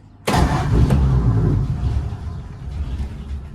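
A 1948 Ford F1 panel truck engine cranks and catches with a sudden loud burst, then settles into a steady, rumbling idle close by, with no talking over it.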